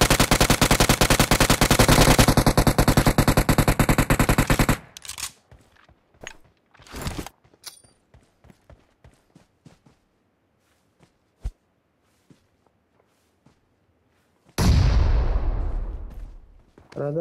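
Rapid automatic gunfire from PUBG Mobile, a long sustained burst up front, then scattered single shots and short bursts at varying distances, and a second loud rattling volley near the end.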